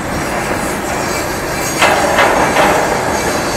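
A coal-laden freight train rolls past on a bypass line, loud and close, with steady wheel rumble, rhythmic clickety-clack over rail joints and a few metallic bangs, no talk.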